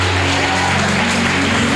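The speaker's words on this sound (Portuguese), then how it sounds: "Vamos aplaudir bem forte." A church congregation applauds during a worship service, a dense wash of clapping blended with sustained music tones underneath, loud and continuous.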